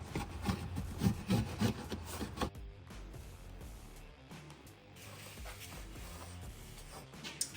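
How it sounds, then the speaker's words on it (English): A saw cuts through plywood for a camper van cabinet, rasping strokes loud and rhythmic at first, then a quieter scraping and shuffling of wood as the cut continues, close by and without speech. "So I started cutting this and I noticed it was chipping up the edge of the wood on the inside"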